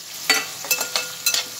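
Sliced onions and coconut pieces fry in a pan as a dish of beef is cooked. Three quick spoon-stirring scrapes rasp over a soft, steady sizzle.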